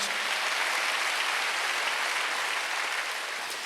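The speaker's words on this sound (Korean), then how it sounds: "박수 한번 더" A church congregation at a Korean Wednesday worship service breaks into dense, sustained applause, a steady wash of many hands clapping at once at even loudness throughout, with no speech.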